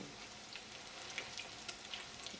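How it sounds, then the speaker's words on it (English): Quiet, steady sizzling of chicken croquettes frying in a pan, with soft scattered pops and crackles throughout. "So let them sizzle a little bit"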